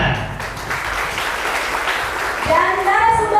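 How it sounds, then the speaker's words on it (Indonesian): Audience applause for a panel speaker at a campus orientation podcast event, a steady broadband patter of clapping throughout with a brief voice near the end. "Tepuk tangan."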